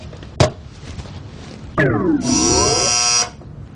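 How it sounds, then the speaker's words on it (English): A kitchen timer going off after a ten-minute mushroom soak, with a sharp click, a falling warble, then a steady loud electronic buzz held for about a second before stopping, heard alone. "10 minutes is up."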